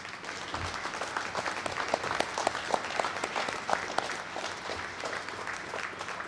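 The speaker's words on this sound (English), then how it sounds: "let's give our seniors one more round of applause" Sustained audience applause at a school winter assembly honoring seniors, a dense steady patter of many hands clapping in a large room, continuing evenly for several seconds without speech.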